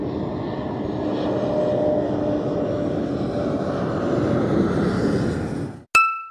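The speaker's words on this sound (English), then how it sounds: "let's look at the aeroplane. Wow! Do you see it flying high?" A steady airplane engine drone fills the air, a broad continuous roar that holds level throughout before cutting off abruptly near the end.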